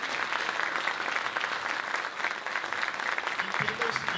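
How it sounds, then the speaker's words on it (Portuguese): Dense, sustained applause from a large conference audience of around 700 people at a RubyConf event, steady and loud throughout with no break. "eu tenho que dar uma salva de palmas para os organizadores desse evento"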